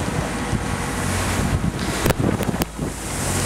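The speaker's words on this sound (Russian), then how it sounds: "Ветер свистит." Strong, steady wind of about 39 knots roaring across open ocean during a sailing passage, with broadband gusts and brief sharper bursts of spray or flapping near the end.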